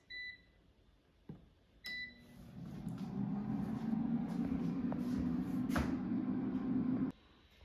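An air fryer set to 400°F runs while cooking frozen Nathan's onion rings: a few clicks and beeps, then a steady low fan hum that holds for several seconds before cutting off abruptly.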